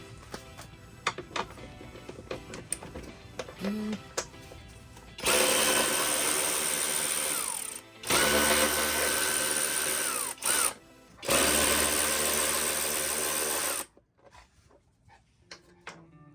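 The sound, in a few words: electric ratchet removing screws from ATV plastic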